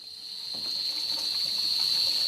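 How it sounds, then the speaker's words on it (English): Tap water runs steadily into a sink during handwashing, a continuous gushing hiss that swells slightly and then holds even, with no voices. "Leave the water running"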